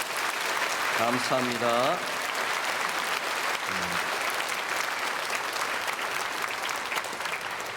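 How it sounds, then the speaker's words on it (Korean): A church congregation at a Sunday worship service applauds to welcome newly registered members, a steady dense wash of clapping filling the hall throughout, while someone speaks briefly over it near the start and again midway. "우리 크게 박수로 환영하겠습니다"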